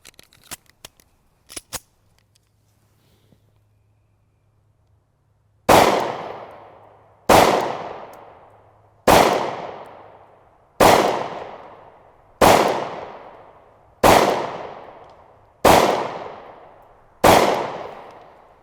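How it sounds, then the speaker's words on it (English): Eight sharp gunshots from a Savage Stance pistol fired at 10-yard range, evenly spaced about 1.5 seconds apart with short decaying echoes, loud and close, after a few faint clicks of handling. "let's shoot it and make sure it actually works"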